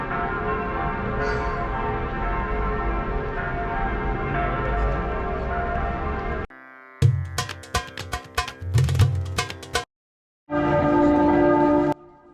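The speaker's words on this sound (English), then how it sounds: "you can hear the bells ringing now. And these bells are 800 years old." Munich church tower bells, 800 years old, ring out loudly and continuously, with dense overlapping tolls, a stretch of separate clangs, then another full peal after a short gap.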